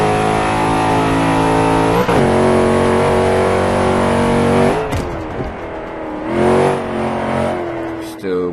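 A car engine in Forza 5 revs loudly and holds near the redline as a steady, close whine, then drops and climbs again through shifts.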